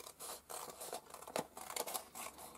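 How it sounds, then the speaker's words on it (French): Paper envelope torn and opened by hand at a craft table, dry crisp scratching and ripping bursts over about two seconds, close and fairly quiet, with no talking. "je ne l'ai pas ouverte, cette enveloppe. Je vais donc l'ouvrir avec vous."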